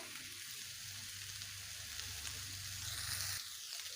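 Fried potatoes and pointed gourd are tossed and stirred in a hot pan, giving a steady broadband sizzle with a low scraping undertone that holds for four seconds, ending in a brief shift near the close, with no voices.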